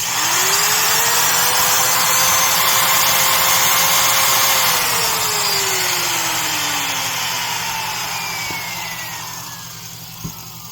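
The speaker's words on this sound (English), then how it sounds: "This little Porter cable just sounds like it's running faster, even though it's only a few RPM." A Porter-Cable mini router motor runs alone at close range, a loud steady high-pitched whine that holds for several seconds, then gradually winds down in pitch and volume as it spins down, ending with a faint click.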